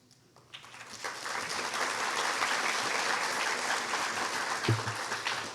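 A graduation audience applauds a board of trustees member, clapping swelling in after a brief quiet start into a full, sustained ovation that carries to the end.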